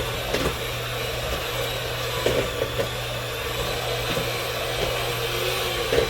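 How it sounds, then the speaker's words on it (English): An electric hand mixer whirs steadily through room-temperature butter, a continuous buzzing drone with faint rattles and knocks from the beaters against the bowl, with no talking. "my hand mixer because I give it to mix the way I want it to mix"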